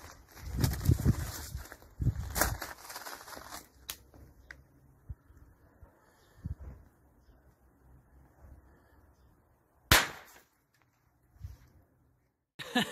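Sharp homemade gunpowder bangs from an outdoor explosive experiment: a cluster of blasts near the start, one loud close crack around the middle of the stretch, then quieter debris and rustling with scattered small pops.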